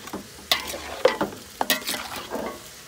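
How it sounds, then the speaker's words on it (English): A spoon stirs cabbage and meat in a hot pot over a faint sizzle, making several distinct scraping strokes in an uneven rhythm, close by and moderately loud. "So let me stir one more time."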